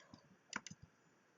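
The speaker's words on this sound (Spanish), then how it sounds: "doy a suprimir en el teclado para eliminarlo" A single key press on a computer keyboard, the delete key, gives a few sharp, close, quiet clicks in quick succession against a soft room hush.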